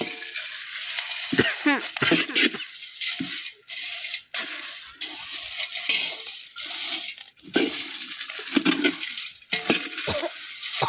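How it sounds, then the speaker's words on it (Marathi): Dried chilies roasting in a little oil in a pan, with a steady crackling sizzle and occasional stirring scrapes, while people talk intermittently over the frying. "तर असे आपण कडक खमंग मिरची भाजली"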